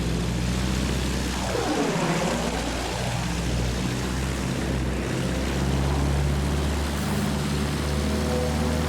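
Bristol biplane in Battlefield 1 gameplay, its propeller engine droning steadily with rushing wind throughout, loud and continuous, no voices.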